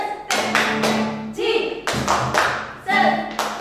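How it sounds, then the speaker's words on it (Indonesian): A group claps in a rhythmic Sunday school cheer, with sharp, close bursts of claps coming in quick clusters, set apart by brief pauses and mixed with voices. "Tepuk Jesus"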